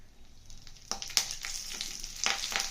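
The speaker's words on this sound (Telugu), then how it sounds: "ఆయిల్ వేసి ఎండుమిరపకాయలు వేయించుదాం" Dried red chillies frying in a little oil, a soft steady sizzle with sharper crackles and spits at intervals, close and fairly quiet with no talking.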